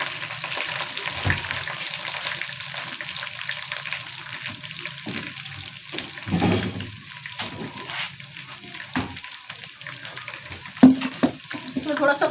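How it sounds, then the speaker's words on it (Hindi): Onions fry in a pot as ginger garlic paste is added and stirred, with a steady sizzle, scraping spoon strokes and a few clanks, while someone talks. "अब मैं इसके अंदर अदरक लहसुन का पेस्ट डालूंगी।"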